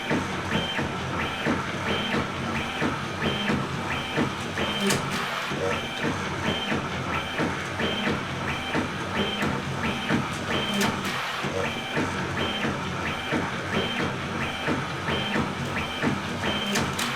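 A Prusa-style 3D printer upgraded with dual Y stepper motors prints at high speed, its steppers producing a continuous rhythmic whirring and buzzing pattern of repeating tones, steady and fairly loud throughout.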